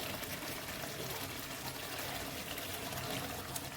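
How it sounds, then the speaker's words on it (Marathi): Water poured into a pan of cooking vegetable curry, a steady broad wash of splashing and trickling liquid at an even level throughout, with no voices. "आता पाणी टाकणार ह्याच्यामध्ये"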